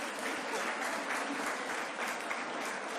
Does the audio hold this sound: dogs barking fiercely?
no